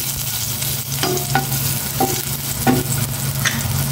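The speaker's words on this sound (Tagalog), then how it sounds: "Ngayon naman magigisa na ako ng sibuyas, kamatis" Sliced onions and tomatoes sizzle steadily in a hot pan in a home kitchen, with a utensil scraping and stirring at intervals close by.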